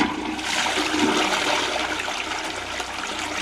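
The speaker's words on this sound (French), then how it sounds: "je vais tirer la chasse d'eau." A newly installed toilet in a renovated laundry room flushes with a loud, steady rush of water that fills the whole clip, close by and without speech.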